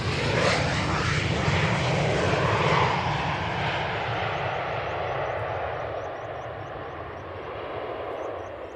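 A KLM airliner on final approach at Manchester Airport makes a loud, steady engine roar that holds for several seconds and then eases slightly as it passes.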